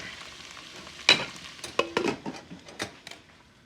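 Onions cooking in a pan over medium-low heat, with a soft sizzle and a few clinks of a utensil stirring against the pan, close and without talk.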